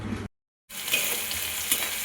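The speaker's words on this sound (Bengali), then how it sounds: "আলু পেঁয়াজটা আমার ভাজা ভাজা হয়ে গেছে" Cut potatoes and onions fry in hot oil with a steady, close sizzle after a short silent break. The frying continues without any talk.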